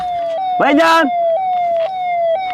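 An ambulance siren at a road accident scene holds a steady, loud electronic tone that steps slightly in pitch every half second or so, with a brief voice cutting in near the start.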